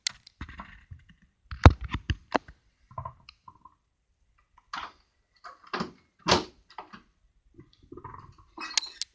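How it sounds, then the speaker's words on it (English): Small plastic doors on a 1:6 scale remote control Chevrolet Avalanche model open with a series of light clicks and thunks, scattered across the clip with quiet pauses between them. "driver door opens."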